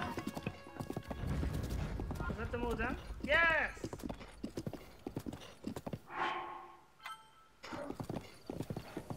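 Rhythmic hoof clip-clops of an ancient horse walking in The Legend of Zelda: Breath of the Wild, with the horse whinnying partway through and a voice briefly exclaiming over it.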